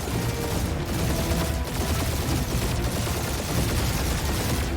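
Rapid spaceship gunfire during a space battle in the video game Guardians of the Galaxy, a dense, continuous stream of blasts and rattling shots with booming impacts throughout.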